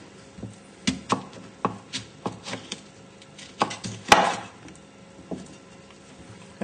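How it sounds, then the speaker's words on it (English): A knife chops a mango around its stone on a cutting board during mango salsa preparation, giving roughly a dozen sharp, close knocks in an uneven rhythm with a brief scraping flurry partway through. "Just chopping around the stone"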